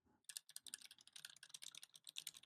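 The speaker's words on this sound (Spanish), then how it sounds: "y pongo mi computadora y un teclado, que lo tengo aquí," Typing on a 90s-style computer keyboard: a rapid, irregular stream of crisp, clacky keystrokes, close and distinct, continuing without pause.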